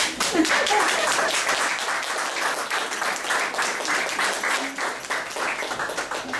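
An audience bursts into lively applause for sculptor Hamida Mehel at an art exhibition, many hands clapping close by in a steady, dense patter with faint voices underneath.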